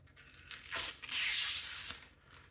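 Tape peels off a PC case panel in two bursts of rough, hissy tearing, the second one longer and steadier, heard up close with no talking.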